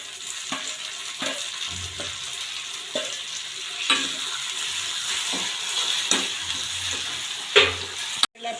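Tomatoes hit a hot tempering of mustard seeds, cumin, asafoetida, onion and garlic for dal dhokli, giving a steady close sizzle with repeated scraping stirs of a spoon and a sharp knock near the end.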